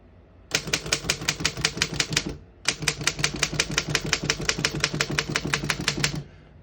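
Typing on a 1929 Underwood No.5 antique desktop typewriter, a fast even run of crisp key strikes with a brief pause partway through, close and loud with no voices.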